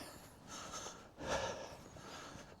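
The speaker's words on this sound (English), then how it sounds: "Am I breathing heavy?" An old man breathing heavily while walking up a steep, slippery hill in a country park, a few faint rough breaths and a snort-like exhale outdoors, with no talk.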